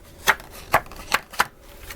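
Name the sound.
thick paper stock being handled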